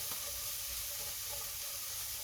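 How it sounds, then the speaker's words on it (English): Savory mince frying in a pan, a soft, continuous sizzling hiss at low volume, steady throughout with no other sounds. "So just let it fry up a bit more, turn it up a little bit."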